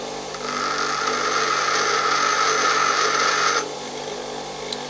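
A high-speed steel lathe tool is held against a spinning grinding wheel, giving a steady, close, high-pitched grinding whine for about three seconds before it stops and the wheel winds down quietly.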